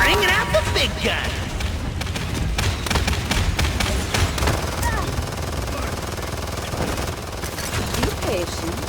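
Heavy gunfire from a big gun in the video game Paladins, a dense run of rapid thumping shots and blasts that carries on throughout, with voices talking over it.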